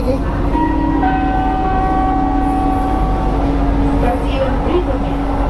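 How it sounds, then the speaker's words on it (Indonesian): An LRT Jabodebek light rail train on the Bekasi Line runs with a steady, loud rumble and hum inside the car, with faint tonal whines and a brief chime-like tone over the continuous noise. "Welcome to LRT Jabodebek Bekasi Line. This train is bound for Jatimulia."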